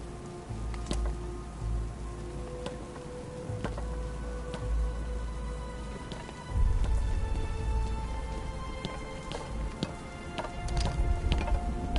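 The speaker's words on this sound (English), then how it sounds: "What's with all the rain?" Rain falls steadily in a Batman video game scene, a continuous moderate patter with scattered sharper drops and a low rumble that swells partway through, no talking.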